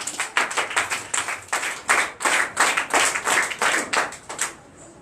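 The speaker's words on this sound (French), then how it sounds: "Donnez l'acclamation" A church congregation at a Sunday service in Comè, Benin claps in a strong, rhythmic unison beat, roughly two claps per second, loud and close, with no talking over it.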